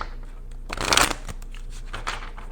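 Tarot cards being shuffled: a short riffling burst of flicking cards, close and crisp, followed by a few lighter card taps in a quiet room.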